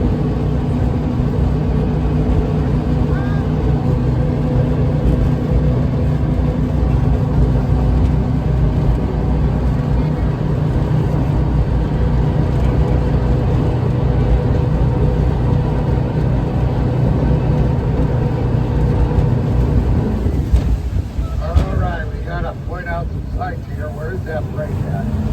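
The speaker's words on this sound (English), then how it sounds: "It's time for the Jetboat." A jetboat engine on a ride out of Portland, Oregon drones loud and steady with a deep rumbling roar and wind buffeting, then surges and shifts near the end.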